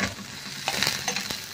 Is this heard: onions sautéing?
yes